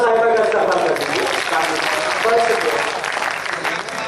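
Dense applause from an audience at a romantic Urdu poetry recital in Chandpur, Bijnor, sustained and fairly loud throughout, with a faint murmur of voices mixed in.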